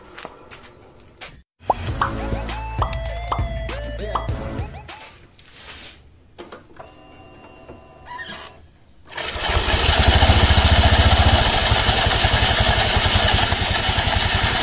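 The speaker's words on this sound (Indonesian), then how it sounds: "Ini karena penbel udah aus jadi menimbulkan suara berisik berisik seperti ini." A few clanks and knocks come first. Then a scooter engine starts and runs with a loud, rough, rattling whir from the CVT drivetrain, caused by a worn clutch.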